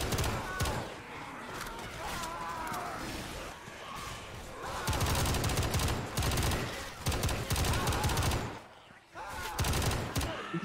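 Gunfire in Left 4 Dead 2, loud rapid bursts of automatic shooting in long dense stretches separated by brief pauses, with players' voices now and then underneath.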